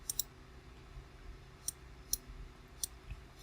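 Computer mouse clicking during a Windows Server session, several sharp, quiet clicks, some in quick pairs and others spaced apart, against a faint background hum.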